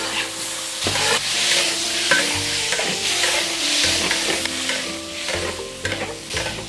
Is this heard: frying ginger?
yes